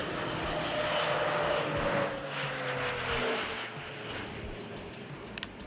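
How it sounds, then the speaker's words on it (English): A crop dusting plane's engine drones loudly overhead, its buzzing roar shifting in pitch as it passes low over farmland, then easing slightly as it moves away. "This massive efficiency has turned crop dusting planes into a strategic weapon"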